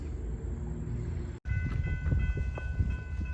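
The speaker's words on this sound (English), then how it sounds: "And the train's gonna be coming right through here" Steady rumble of a train close by at a two-track railroad crossing, with a tonal horn or bell-like ringing layered on top and a brief dropout midway.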